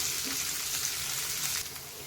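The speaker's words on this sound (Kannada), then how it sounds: "ಇದು ಈಗ ಚೆನ್ನಾಗಿ ಫ್ರೈ ಆಗಲಿ ನಮಗೆ" Sliced cabbage frying in a pan gives a steady, close sizzle that holds level for about two seconds before easing slightly near the end; no voices.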